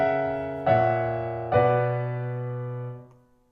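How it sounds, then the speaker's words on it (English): A short harmonic sequence from the slow movement of Beethoven's first Opus 30 violin sonata, played as three sustained chords, each struck cleanly and left to ring and decay, the last fading out. "This one is the slow movement from the first Opus 30 violin sonata"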